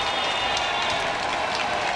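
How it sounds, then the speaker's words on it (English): A large crowd cheers and applauds at a Conservative election victory, in a dense, steady roar of clapping and voices that fills the whole moment without a break. "A huge crowd and a huge cheer."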